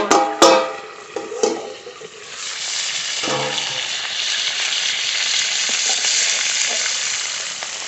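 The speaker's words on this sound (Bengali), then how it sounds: "ঢাকনা তুলে পটলগুলো একটু নেড়ে দেব" Pointed gourd pieces fry in a pan as they are stirred, a few loud clanks and scrapes at the start giving way to a strong, steady close sizzle that fills the rest.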